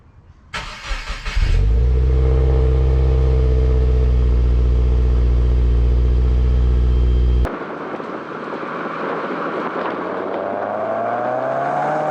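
A 2016 Subaru WRX Premium with a manual gearbox and a larger aftermarket exhaust cranks and fires up, settling into a loud, deep, steady idle before a revving engine note takes over and rises.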